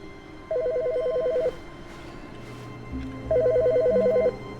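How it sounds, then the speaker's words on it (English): A telephone rings in The Stanley Parable: Ultra Deluxe video game, sounding two loud electronic trilling bursts separated by a pause, over low background music with no talking. "Why is the phone ringing, Pamela?"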